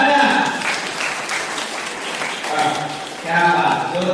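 Applause from the audience at a lively quiz on the Buddha and his Dhamma, moderately loud and steady, with a speaking voice over the start and again near the end.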